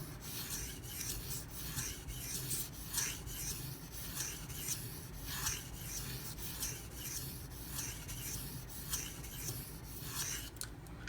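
A Zero Tolerance 0393 knife in CPM-20CV steel drawn over a coarse, grit-shedding whetstone: rhythmic rasping strokes repeat about every second, close and fairly quiet, with no voices.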